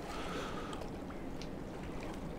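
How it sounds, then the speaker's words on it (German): Water laps gently in Hamburg harbour on a foggy day shortly after a ferry has passed, a soft continuous splashing wash with faint distant harbour noise and no talk. "hier hört man so ein bisschen das Wasser plätschern"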